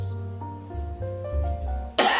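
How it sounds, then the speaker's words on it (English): A person coughs in an open area, with a brief sharp burst near the end after quiet low tonal background. "this is a wrong method to cough in an open area like this"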